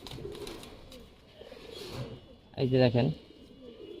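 Pigeons coo near the microphone in a short, loud burst of throaty calls, with someone talking before it and over the soft bird sounds around it.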